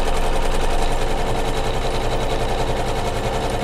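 A sewing machine runs continuously with a fast, steady stitching rattle as it tacks strips of quilt batting down on a flange-quilted pillow, loud and close with no voices.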